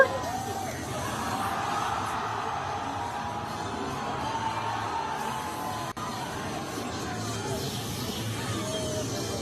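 Thousands of people in a large crowd cheer and shout like fans at a soccer game, a dense, continuous roar of voices and whoops that stays steady at moderate distance throughout.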